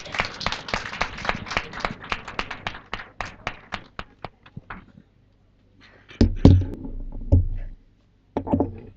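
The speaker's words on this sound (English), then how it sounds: "Give a huge round of applause, ladies and gentlemen." Scattered round of applause at a March 2015 job fair welcoming company presenters: a small group's sharp, fairly regular hand claps for several seconds, thinning out and stopping, then a few louder thumps and knocks after a brief pause.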